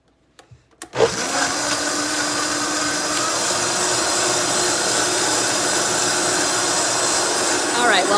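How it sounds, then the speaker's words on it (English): A blender starts with a few clicks, then roars up into a steady, loud whirring drone that holds for several seconds while it blends an apple pie smoothie with protein powder. "So I've got everything in my blender and now it's the noisy part, right?"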